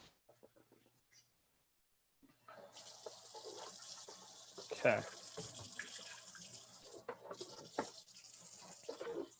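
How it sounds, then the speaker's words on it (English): Cold tap water pours steadily over pasta sitting in a strainer in a sink, a continuous hissing splash that begins after a quiet start, with a brief spoken word and some handling clatter. "I'm just going to let the cold water here run on my pasta just like this."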